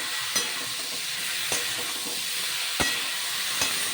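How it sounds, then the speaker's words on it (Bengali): Figs cooked with green chillies and sour yogurt sizzle and hiss steadily in a pan, with a few sharp spatula scrapes and knocks as the mixture is stirred, close and fairly loud with no voices. "এবার ভালো করে কষিয়ে নেব।"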